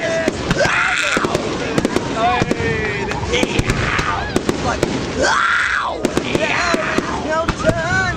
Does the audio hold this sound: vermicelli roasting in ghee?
no